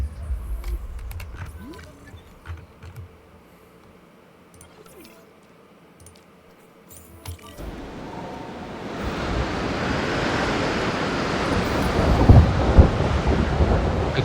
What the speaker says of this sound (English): our main problem right now is the storm